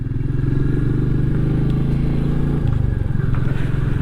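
A Royal Enfield Meteor 350 single-cylinder engine thumps steadily and loudly at close range while riding after a valve adjustment and air filter mod, its pulsing exhaust dropping pitch briefly partway through.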